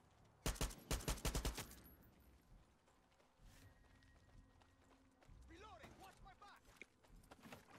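Rapid burst of automatic gunfire in Far Cry 6, a quick run of loud cracking shots near the start, followed by quieter in-game ambience with speech and scattered mechanical sounds.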